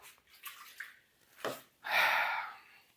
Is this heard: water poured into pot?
yes